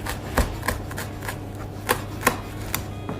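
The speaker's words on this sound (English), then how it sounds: "Just going to get a little bit, chop it up a little bit" Lemon thyme being chopped with a knife on a board, a handful of sharp, irregular taps spaced across a few seconds, close and clear with no voices.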